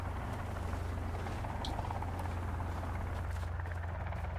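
Helicopter hovering overhead in the survival game Sons of the Forest, a steady loud rotor drone filling the scene throughout with no break.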